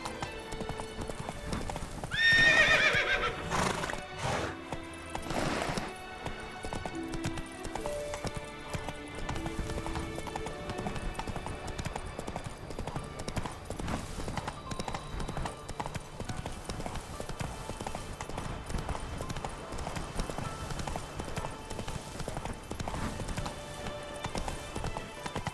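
Hooves of Roach, a horse in The Witcher 3 video game, gallop in a fast, continuous clip-clop, with a whinny near the start and game music and ambience running underneath.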